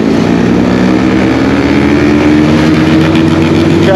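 A loud motorcycle exhaust roars steadily and close for a few seconds, a dense continuous engine drone with no break.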